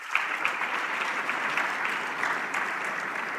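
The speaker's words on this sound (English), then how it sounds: "Together, let's celebrate them with a thunderous round of applause." Conference audience at an Africa investment summit gives a round of applause, a soft, even wash of many hands clapping heard from a distance in a large hall.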